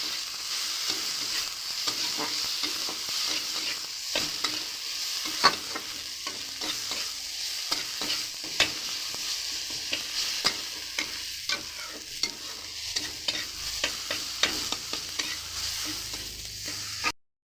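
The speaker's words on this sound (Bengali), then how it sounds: "আদাটাকে ভালো করে একটু টমেটোর সাথে ভাজা ভাজা করে নেব।" Ginger and tomato cooking in oil with turmeric and chili powder, a continuous sizzle broken by frequent clicks and scrapes of a spoon stirring in the pan, with no voices.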